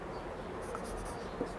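Brief scratching of writing on a classroom board, a short burst of marker or chalk strokes heard alone, fairly faint.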